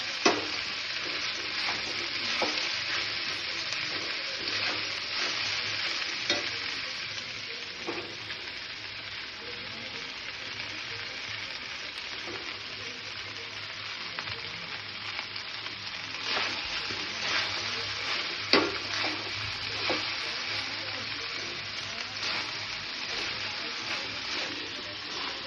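Boiled rice frying and being stirred in a pan for fried rice, a continuous close sizzle with scraping stir strokes throughout, steady and fairly loud with occasional louder clanks.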